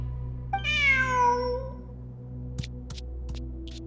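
A cat in Genshin Impact gives a single clear, drawn-out meow, close and distinct, followed by a few faint soft clicks over a low steady background hum.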